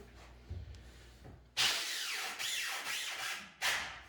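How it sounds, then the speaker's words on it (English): A power drill whirs in several short bursts, each winding up and easing off as it drives screws into the wooden underside of a craps table, fairly close with a brief knock before it starts. "I'm just going to drill in to keep everything tight"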